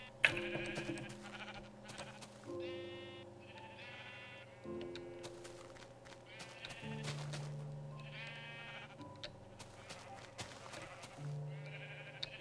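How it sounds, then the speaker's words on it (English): Sheep in the Minecraft video game bleat repeatedly in short, clear calls over steady game background music, several bleats spaced across the scene at moderate volume. "I have to figure out why one of my sheep turned white"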